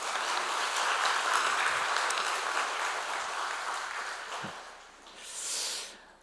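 A church congregation applauds for the pastor's mother, a broad sustained clapping that fades out toward the end, heard alone and from a moderate distance.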